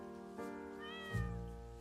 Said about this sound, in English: You see this cat here?